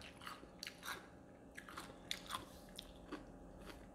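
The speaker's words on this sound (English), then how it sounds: "That is crunchy." Close-up crunching as crisp food is bitten and chewed, a series of sharp cracks at an uneven pace, no talking.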